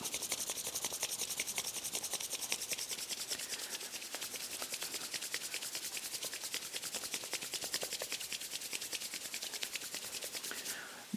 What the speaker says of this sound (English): just intensely rub these two hands together for a minute